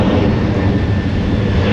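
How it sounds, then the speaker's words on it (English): Airplane passing overhead near an urban storm drain in Sydney, a steady broadband engine roar that stays loud and even throughout with a faint high whine, no voices. "Now the plane."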